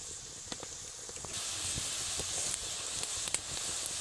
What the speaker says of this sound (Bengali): তেলটা একটু ভালোভাবে গরম করেই কিন্তু নিমকিগুলোকে ভাজতে হবে